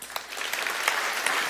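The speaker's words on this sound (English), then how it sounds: "let's give everybody a round of applause" A crowd at a company town hall event bursts into steady, dense applause that holds at an even level from start to finish, with a few sharper claps standing out near the front.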